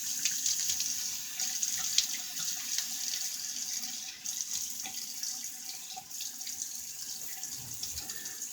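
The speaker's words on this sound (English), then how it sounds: "Let me wet the face and we'll start loading up our brush." Tap water runs steadily into a sink while a face is wetted before a shave, a continuous close splashing hiss with no talk.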